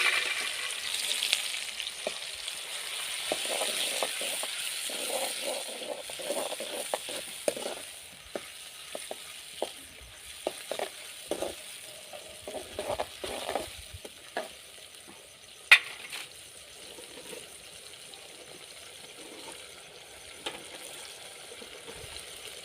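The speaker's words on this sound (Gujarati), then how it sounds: "हवे आपणे तेल गरम थई गयुं छे एमां आपणे आ सुधारेલું છે તે બધું નાખી" Chopped vegetables for Kathiawadi-style dal dhokli frying in hot oil, a steady sizzle with scattered crackles and occasional stirring knocks, close and alone with no talk.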